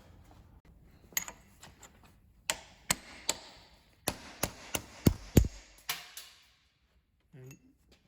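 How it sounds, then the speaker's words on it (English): A hammer strikes a chisel against a drilled clamp head in a run of sharp metallic clanks, sparse at first then quicker and harder, ending in a heavier knock; close and fairly quiet, with a short faint sound after. "now I'm gonna get a hammer, just hammer this off with a chisel."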